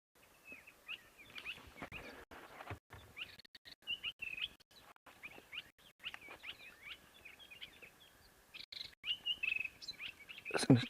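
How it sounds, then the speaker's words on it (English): Many small birds chirp and tweet in busy overlapping bursts, fairly faint and distant, with quiet outdoor background on an African safari. "it's just so peaceful listening to all the little birds"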